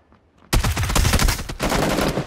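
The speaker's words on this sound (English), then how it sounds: "I'm getting shot." Rapid automatic gunfire in PlayerUnknown's Battlegrounds, a sudden loud burst of close, rattling shots that continues for about two seconds after a brief quiet start.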